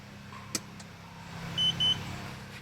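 Two short, steady electronic beeps in quick succession from a LevelMatePRO leveling device powered by 12-volt batteries, over a low hum of background noise.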